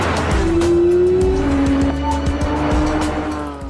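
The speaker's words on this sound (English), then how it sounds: "In a full throttle upshift, the transmission shifts from one gear to the next in less than 100 milliseconds." A 2018 Porsche 911 GT3 RS under full throttle with wheel spin, a loud, close engine wail that climbs, breaks in a quick upshift and climbs again while the tires squeal.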